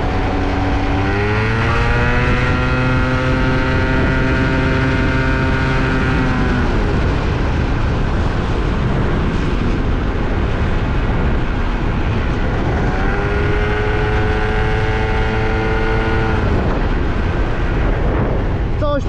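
An Italjet Dragster 180cc two-stroke scooter is ridden through town, its engine droning loud and close with rising and falling revs as it accelerates, holds speed, then accelerates again, masked by steady wind rumble.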